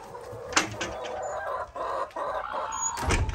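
Several chickens cluck and squawk nearby in short bursts, with a sharper cackle near the start and a louder call at the end.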